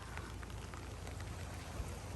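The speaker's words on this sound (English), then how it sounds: "it's raining too" Rain falling outdoors around a boat makes a steady, soft hiss with faint scattered patters, continuous throughout and without voices.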